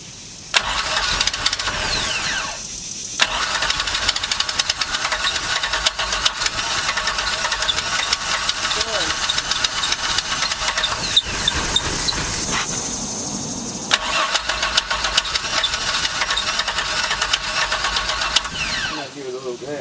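A truck V6 engine swapped into a ski boat cranks, fires and settles into a rough, loud running idle with revs, heard up close while a person talks over it.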